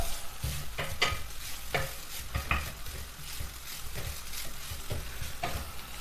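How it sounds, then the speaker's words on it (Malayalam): Grated coconut roasts on medium heat in a pan under constant stirring, a soft sizzle broken by regular scraping strokes of a spoon against the pan, close and unaccompanied by speech. "ഇനി തീ മീഡിയം ഫ്ലെയിമിലാക്കി തേങ്ങ നന്നായിട്ടൊന്ന് വറുത്തെടുക്കാം"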